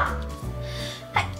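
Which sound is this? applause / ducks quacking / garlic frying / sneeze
sneeze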